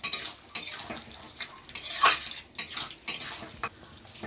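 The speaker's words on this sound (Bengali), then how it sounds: "তেলের মধ্যে ভালোভাবে নেড়ে যেতে হবে" A spoon stirs tomato paste in hot oil in a pan for a chicken curry, with repeated close metallic scrapes and clanks in an uneven rhythm over a faint sizzle.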